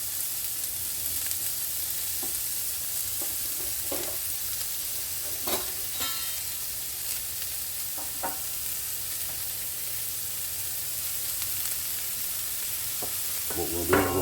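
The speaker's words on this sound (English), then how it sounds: "we're going to take a sweet Italian sausage and we're going to break it up in this back pan back here" Sweet Italian sausage sizzles steadily while being stirred and broken apart in a hot pan, with scattered scraping clicks over a continuous frying hiss.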